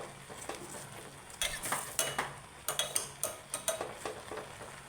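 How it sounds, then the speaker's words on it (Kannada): Okra pieces tossed with tongs in a covered pan: quiet steady sizzle under a run of sharp metallic clinks and scraping taps, coming in bursts through the second half. "ಐದು ನಿಮಿಷ ಆದ ಮೇಲೆ ಇಕ್ಕಳದ ಸಹಾಯದಿಂದ ಇವುಗಳನ್ನು ಟಾಸ್ ಮಾಡಿಕೊಳ್ಬೇಕು"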